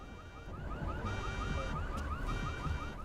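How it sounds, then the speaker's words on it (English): A car alarm in the video game Deus Ex: Mankind Divided blares in a fast repeating warbling cycle, steady and fairly loud against a low background rumble. "Let's set off a car alarm."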